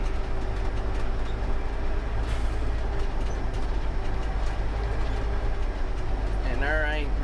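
A grain truck pulling a trailer bumps across a rough field, its heavy rumble and rattling carrying steadily throughout while voices talk over the noise.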